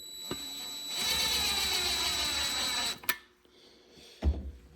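A high-pitched power drill whirs steadily for about two seconds close by while installing valve seals and springs on a 4.6 4-valve engine, followed by a couple of sharp clicks and knocks.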